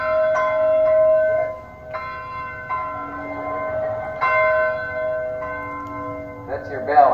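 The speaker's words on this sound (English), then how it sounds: "That's your bell, I take it." A large bell at Muhammad Ali's old training camp in Deer Lake, Pennsylvania, is struck several times, each loud clang ringing out and overlapping into a long sustained hum, heard close and outdoors.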